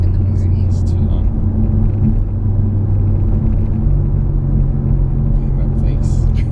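A car engine rumbles low and steady from inside the cabin while driving, a constant loud drone under people talking.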